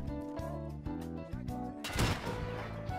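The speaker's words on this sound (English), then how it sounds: "Let's see if we can get him with a grenade." Grenade blast in the Escape From Tarkov shooter game lands midway as a sudden loud, broad burst over a steady tonal drone, then trails off into rumbling background.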